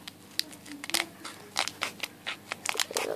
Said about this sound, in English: And then you just want to cut it open.